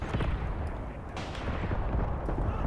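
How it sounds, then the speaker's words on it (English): Hand grenades exploding during trench fighting in the Graviteam Tactics war game, a dense run of booming blasts and crackling gunfire that keeps going under a noisy battlefield rumble. "hand grenades are being thrown now"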